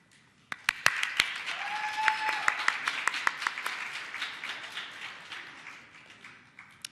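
Scattered, sparse clapping from the audience at a nursing school pinning ceremony, starting with a few sharp isolated claps and thickening into light, fairly distant applause that fades out, with faint voices underneath.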